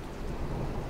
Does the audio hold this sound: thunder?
yes